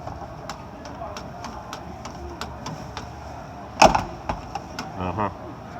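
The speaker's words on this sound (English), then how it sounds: "Let's see how the door closes." A car door shuts with one solid thump at an outdoor swap meet car show, surrounded by steady rhythmic ticking and faint background murmur.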